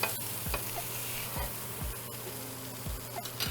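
Beef burger patties sizzle steadily in a hot skillet, a close, continuous frying hiss with soft periodic low thumps and clinks from handling, no voices.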